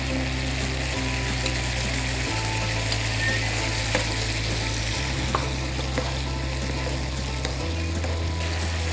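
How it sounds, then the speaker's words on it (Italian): Eggplant fries in a pan with tomato, a steady loud sizzle and crackle with occasional clicks and a low hum throughout, no talk. "A questo punto andiamo ad aggiungere le melanzane."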